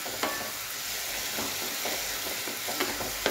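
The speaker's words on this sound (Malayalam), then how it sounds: "ടൊമാറ്റോ വഴലാൻ തുടങ്ങിയിട്ടുണ്ട്." Tomatoes cooking in a covered pan for tomato theeyal, a steady soft sizzle of frying with a few faint stirring clicks and taps scattered throughout, no talking.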